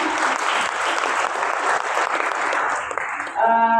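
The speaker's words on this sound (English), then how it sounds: "Please let's clap for her." Audience applause at a gender-agenda event, a steady dense wash of clapping from a crowd that holds for several seconds before a tonal sound cuts in near the end.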